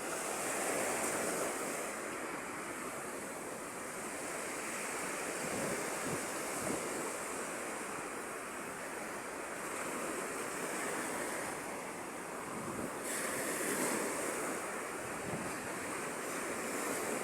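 Sea surf washes continuously against the shore, a loud, steady roar of breaking waves mixed with wind buffeting the microphone, with no voices.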